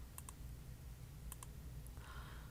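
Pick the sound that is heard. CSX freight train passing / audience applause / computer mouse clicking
computer mouse clicking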